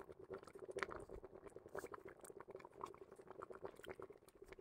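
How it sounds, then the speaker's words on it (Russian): Water boiling vigorously in a pot on a village bathhouse stove, a faint, dense bubbling patter that runs steadily throughout with no talk. "Раз кипит, значит хорошая."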